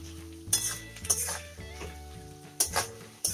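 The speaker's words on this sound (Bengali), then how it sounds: "প্রায় 3 মিনিট সময় ধরে পেঁয়াজগুলো ভাজা হয়ে গেছে" Onions frying in a pan with salt and Kashmiri chili, stirred with a utensil that gives several bright clinks and scrapes in uneven bursts over a faint sizzle, close by.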